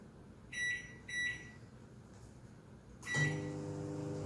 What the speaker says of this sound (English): which I'm going to microwave for about 3 minutes